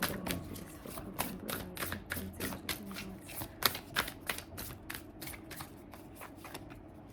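Deck of tarot cards being shuffled by hand, a quiet, rapid run of crisp riffling clicks and flutters repeating for several seconds, close and alone.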